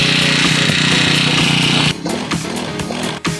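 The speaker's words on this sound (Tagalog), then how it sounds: "Ayon sa nakikita nyo ay gumagana na ang ating grass cutter." A gasoline grass cutter engine runs loudly at high revs up close, a harsh buzzing drone that drops to a rougher, lower idle partway through.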